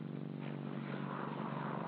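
Military aircraft fly over a 1950s Marine beach landing, a steady droning roar of propeller engines filling the short stretch at moderate distance.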